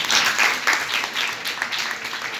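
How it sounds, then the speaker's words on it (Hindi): Students clapping together inside a government girls' school during a meditation session, a dense, steady applause lasting a few seconds at close range with no voices over it. "तालियां बजाओ।"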